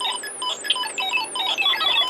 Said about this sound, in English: the first one here, that's the faulty part of this alarm IC. As you tell, it does not output the audio correctly.